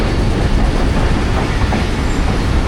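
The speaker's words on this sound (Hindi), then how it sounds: "तो जी 8317 के साथ 1 अप खैबर मेल आ गई और काफ़ी लेट है आज।" The 1 Up Khyber Mail passenger train, running late, pulls into a station with a steady loud rumble and clatter of rolling wheels filling the whole stretch, with no pauses.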